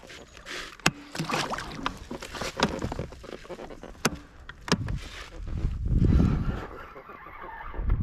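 A small fishing boat on a reservoir, with knocks and thumps against the hull, water sloshing, and a low motor rumble swelling near the end.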